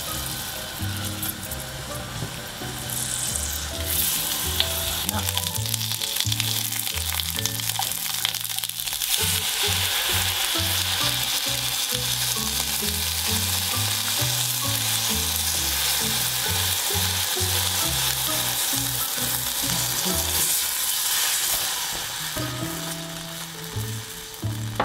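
Loud, continuous sizzling and frying from a hot pot with plenty of sesame oil as water is added, with clattering stirring and scraping noises throughout.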